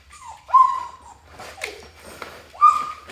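Small puppies whimper and yip close by, a few high rising cries separated by short gaps with soft snuffling between them, and no one speaks.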